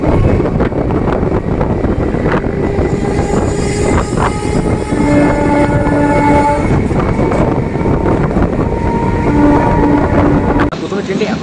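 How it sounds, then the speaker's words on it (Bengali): A crowded Kolkata local train on the Tollygunge to Sealdah line rattles loudly at speed, a constant roaring rumble with short horn-like tones sounding midway and near the end. "এখন ট্রেন ভালোই স্পিডে যাচ্ছে"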